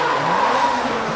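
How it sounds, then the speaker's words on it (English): Drift car at a drift competition, its engine down on power and labouring, with a continuous loud tire-squealing skid and a strained engine note holding steady close by. "You actually hear Dane's car sort of labouring a bit"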